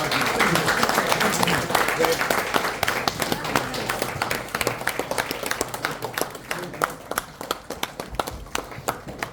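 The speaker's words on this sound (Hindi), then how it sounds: "जोरदार जोरदार तालियां गाइस, तालियां बजनी चाहिए." Dense, steady clapping from a seminar audience, loud and continuous throughout, with some voices mixed in.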